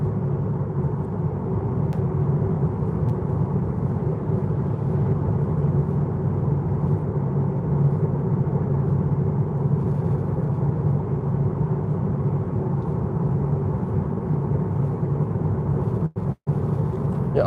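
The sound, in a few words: cabin noise while driving Tesla Model 3 Highland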